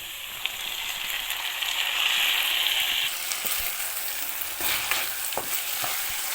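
Onion, garlic and freshly added tomato fry and sizzle in a pan while a spoon stirs them, steady bright sizzling with scraping strokes near and clear, no talk.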